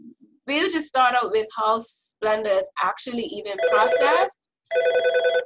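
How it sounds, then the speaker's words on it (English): A telephone rings with a clear, warbling electronic tone near the end, alone after a stretch of steady talk about Splenda and sugar. "sorry for the phone ring"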